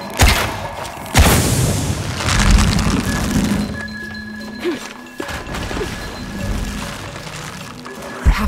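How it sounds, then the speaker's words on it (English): A loud booming blast with crashing debris from the video game Shadow of the Tomb Raider, followed by lingering rumble and a few softer thuds and clanks. "Have to create an explosion."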